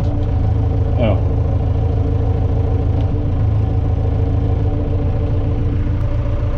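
An ArmaTrac 1104 lux tractor engine idling nearby, a loud, steady low rumble that holds evenly throughout.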